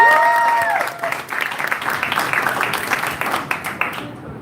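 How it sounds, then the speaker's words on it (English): An audience claps after a dance performance, the applause fading from an initial swell into scattered clapping, with a short musical tone at the very start. "A big round of applause once again."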